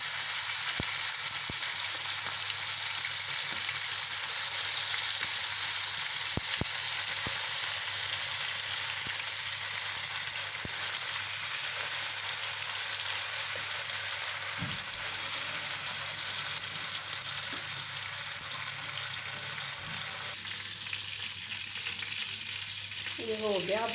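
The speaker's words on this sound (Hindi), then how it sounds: "बहुत हल्की आंच पे इसे फ्राई करना है हमने।" Macaroni for a tandoori chicken macaroni dish fries over a very low flame, giving a steady, even sizzle with no talk, dipping slightly near the end.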